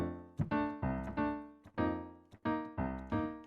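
Piano plays the parallel fourths from a song, a sequence of sustained chords moving in steps with clear attacks, heard alone and moderately loud.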